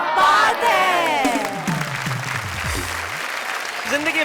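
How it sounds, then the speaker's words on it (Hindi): A poetry show audience breaks into loud, sustained applause with scattered cheers, a dense crowd clapping close by that slowly fades over about four seconds. "भाई यहाँ तालियां हैं, ठहाके हैं और खुशियों की बरसात है"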